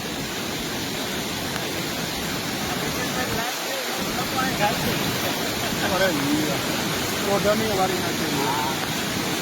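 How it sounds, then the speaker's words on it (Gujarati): A loud, continuous roar of floodwater rushing along the Ojat River, where a bank has broken, fills the scene, with faint voices now and then underneath. "પાણીનો પ્રવાહ બહુ છે"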